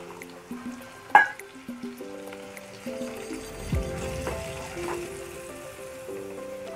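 Tomato masala for dhaba-style mash ki daal (urad dal) sizzles in a hot pan after two tablespoons of water go in, the frying hiss swelling midway and holding steady beneath tonal background music.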